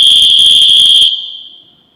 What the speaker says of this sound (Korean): 이게 새로 나온 호루라기예요.